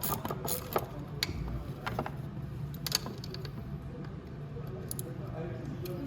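Metallic ratcheting and clicking of a wrench loosening factory-tight sprocket bolts on the motor of a Venom E-Madix 1300w electric ATV, in short irregular bursts close by.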